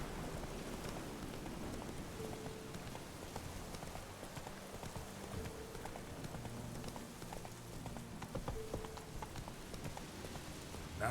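Horse hooves clip-clop steadily at a trot in The Witcher 3 video game, faint and mixed with rain-like patter and soft game ambience.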